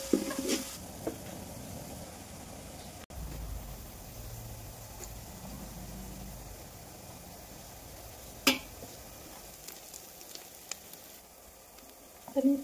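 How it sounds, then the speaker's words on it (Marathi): Onions and garlic fry in a pan for chicken biryani, a low steady sizzle with occasional sharp clinks and scrapes as they are stirred. "लसूणचे कांदे टाकून छान मिळवून घ्यायचे।"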